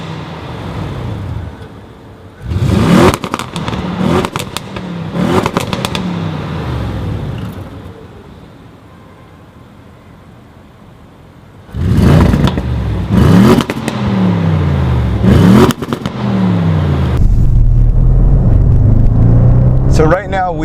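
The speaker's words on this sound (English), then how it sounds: "give it a couple revs so you can hear that." Audi RS7 engine revved while parked, two separate bursts of loud, deep revving rising and falling, with the engine idling and rumbling quietly in between and a steady low rumble at the end.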